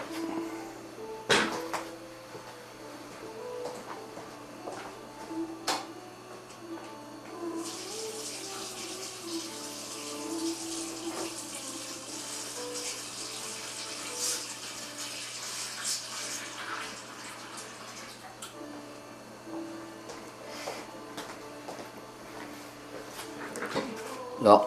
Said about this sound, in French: Maintenant on va essayer de le rincer